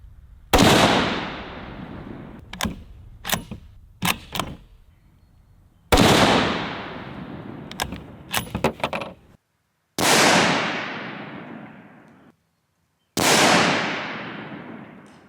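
Four loud rifle shots fired through a scope, each a sharp blast with a long decaying echo, spaced a few seconds apart, with fainter metallic clinks of cycling action and brass between the first shots.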